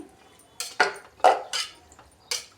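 A metal utensil scrapes and clinks against a pot of tempering on a gas stove in a few irregular strokes, close and crisp, with quiet gaps between.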